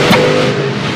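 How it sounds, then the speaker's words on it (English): A Top Methanol drag racing car engine at a drag strip, a loud continuous roaring rev held for about a second, close and dominant. "And in the other lane, we've got Dave Wilson in the Silverline car"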